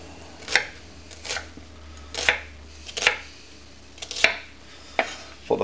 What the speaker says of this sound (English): And then slice this up.